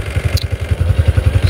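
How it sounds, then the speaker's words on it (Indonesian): A 125cc underbone motorcycle's exhaust throbs close up in a fast, even low-pitched pulse, a rough idle with slight revving. "dan ini suaranya knalpotnya ya"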